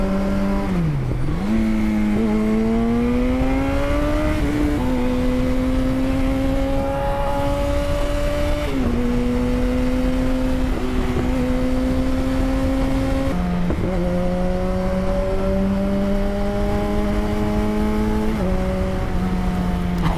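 A 2006 Yamaha FZ1 motorcycle engine pulls hard while riding, its pitch climbing through each gear and dropping with every smooth upshift, loud and steady over rushing wind.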